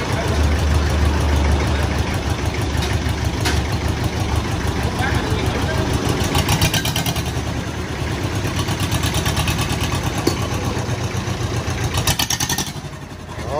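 An old used Iseki tractor at Gò Đen, Long An idles loudly and close by, with a steady rough chugging throughout and people talking over it.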